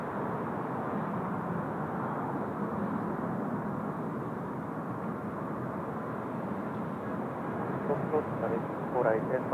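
An Airbus A350 airliner arriving at Seoul Incheon Airport gives off a steady, broad roar of jet engines heard from a distance, holding at a constant level with a slight rise near the end, and a voice speaks faintly over it.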